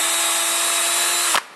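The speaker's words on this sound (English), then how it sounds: "run your drill in reverse, and you can widen these holes right out" A power drill running in reverse to widen screw holes in a 3D printed flashlight part gives a steady, loud, high whine that stops abruptly near the end with a short clunk.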